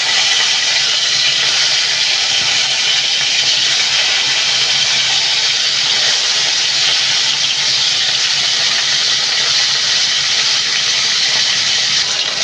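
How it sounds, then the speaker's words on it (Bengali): Hilsa fish pieces coated in salt and turmeric fry in hot oil, giving a loud, constant, bright sizzling hiss that stays even throughout with no pauses. "এই মাছগুলো আমি হালকা হালকা করে একটু ভাজি করে নেব।"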